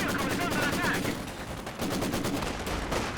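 A Maxim machine gun fires in Company of Heroes 2, with rapid continuous bursts heard among other battlefield gunfire at a moderate level.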